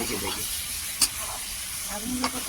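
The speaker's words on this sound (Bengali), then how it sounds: "এবার কষাতে কষাতে এবার দেখবেন তেল ছাড়ছে, হয়ে গেল মাংস" Mutton is stir-fried in hot oil in a pan, a constant crackling sizzle with brief louder scrapes and pops as the meat is stirred. The frying stays close and steady throughout.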